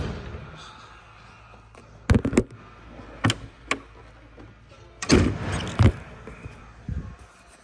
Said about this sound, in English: Let me just close the doors, shut the car off